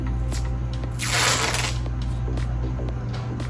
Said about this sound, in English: I normally take some floral tape and I will place this